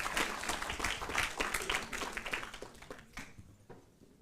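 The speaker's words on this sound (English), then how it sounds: "please give them one last round of applause to all of them" An audience in a theatre claps for speakers, a fairly quiet patter of hands heard from a distance that thins out over four seconds.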